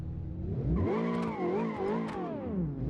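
A car with no downforce accelerates mid-corner as its rear tires slide, the engine note rising and wavering in pitch under the throttle alongside faint tire squeal, heard up close.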